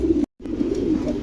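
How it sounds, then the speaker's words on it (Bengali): A pair of large pigeons, offered for sale at a bird market, give a low, soft, continuous cooing up close, broken by a brief gap of silence partway through. "চমৎকার এক জোড়া কবুতর"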